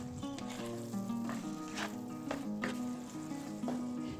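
A garlic clove fries in a pan with a pumpkin dish, giving a soft steady sizzle with occasional stirring clicks, close and fairly quiet, with a faint melodic tone running underneath.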